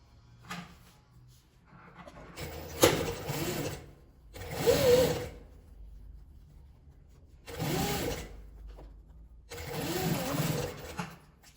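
A sewing machine stitches around a card purse in four close, loud bursts of whirring, separated by quiet pauses.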